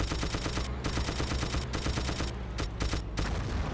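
Rapid video-game gunfire in dense sustained bursts with short pauses between volleys, loud and close, with no talk.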